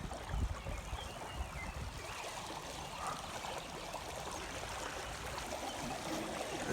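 Floodwater starting to flow over a bridge in a partially flooded pasture after rain, a steady faint rushing and trickling stream heard from nearby with no talk.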